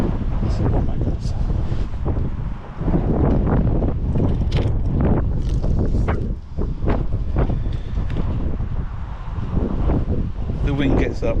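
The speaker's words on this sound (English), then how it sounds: "The wind gets up." Strong wind sweeps across a fishing lake during a match, buffeting the microphone with loud, gusting rumbles that rise and fall for several seconds.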